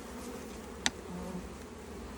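Honeybees in an opened Langstroth hive give off a soft, steady hum that runs low and continuous throughout, broken by one brief sharp click near the start; no voices.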